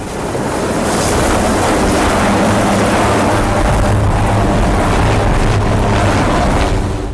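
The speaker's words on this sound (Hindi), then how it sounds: "जो बाइडेन का हेलीकॉप्टर इसमें सवार हुए और व्हाइट हाउस से उड़ चुका है।" Joe Biden's helicopter lifting off from the White House makes a loud, steady rotor and engine roar that fills the whole stretch, alone and without talk.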